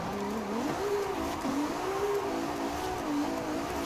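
A Ferrari 296 GTB V6 engine in Forza Horizon 5 revs and surges continuously, pitch rising and falling as it accelerates and shifts, loud and steady with no talking.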